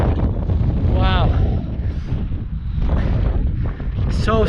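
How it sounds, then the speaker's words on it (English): Strong wind buffets the microphone on a mountain summit along the Skyline Trail in Jasper, a loud continuous rumbling roar that gusts throughout, with brief voices and faint tonal sounds breaking through now and then. "Very windy, but still worthwhile."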